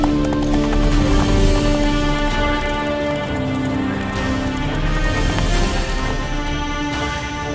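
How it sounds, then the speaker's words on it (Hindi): Horses gallop through a film scene with dense clip-clop hoofbeats and an occasional whinny, pressed together with a steady wash of orchestral or ambient score that stays loud throughout. "तगड़े घोड़े हैं भाई"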